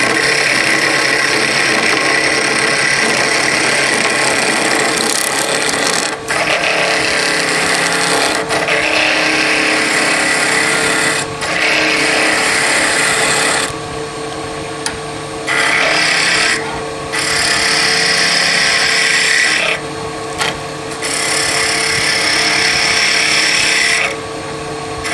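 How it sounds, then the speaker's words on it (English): A skew chisel cuts a small wood piece spinning fast on a wood lathe, giving a loud, continuous scraping rasp that runs close and steady, broken by a few short pauses as the tool lifts off. "Roughing out with a skew is fine for smaller pieces, but not so good for larger pieces."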